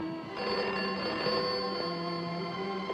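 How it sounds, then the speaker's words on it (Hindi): An old landline telephone in a 1970 Hindi drama rings steadily with a bright, continuous electric bell tone, loud and close, and no one speaks over it. "हाँ फोन है तुम्हारा"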